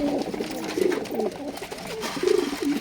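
Giribaz pigeons coo in repeated low, throaty bursts at a home loft, several rolling calls overlapping at close range with no talking.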